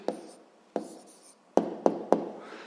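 A pen writes an answer by hand on paper in a physics exercise, giving five short scratchy strokes, the first two longer and the last three quick taps close together, near and fairly quiet.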